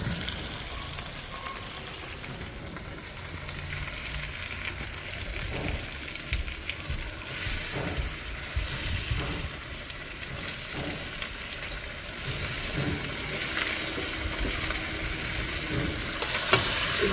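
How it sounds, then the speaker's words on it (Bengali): Snakehead fish frying with radish in a pan, plain with no spices, a dense close sizzle running throughout with stirring scrapes, ending in a couple of sharp clatters. "মূলোটা ভাজা হয়ে গেছে, মাছগুলো দিয়ে দেবো।"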